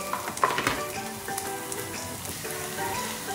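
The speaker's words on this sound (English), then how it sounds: "I'm going to stir fry this well." Crushed green chilies and ginger sizzle in a pan while being stir-fried for Kerala squid masala, a dense, close crackle with a few brief sharper pops early, no one talking.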